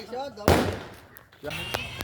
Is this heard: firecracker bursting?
yes